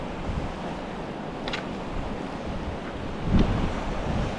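Rushing water and gusting wind at high elevation form a loud, continuous broadband roar with microphone buffeting, steady throughout and swelling briefly near the end, with no talk.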